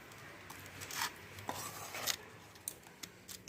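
Spatula scraping and stirring flour dough in a pan for anarasa, a few quiet rasping strokes and scrapes at irregular intervals, close and soft with no talking.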